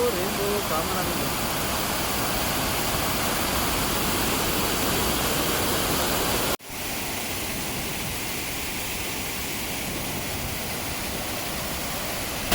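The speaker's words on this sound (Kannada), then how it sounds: "ಬೀಳ್ತಾ ಇರೋ ಫೋರ್ಸ್ ನೋಡಿದ್ರೆ, ನೀರು ಮೇಲ್ಕೆ ಎಗರೋದು ನೋಡಿದ್ರೆ ಕಾರಂಜಿಲ್ ಬಂದಂಗೆ ಬರ್ತಾ ಇದೆ ನೀರು." Coco Falls crashes down with force, throwing spray upward in a steady, loud broadband roar that briefly cuts out midway and resumes slightly quieter.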